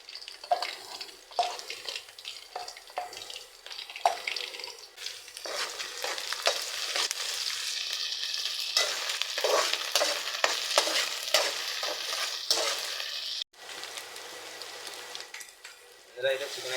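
Onions frying with ginger garlic paste in a pan, a loud steady sizzle broken by repeated scraping stirs, close up and continuous, with a brief drop near the end.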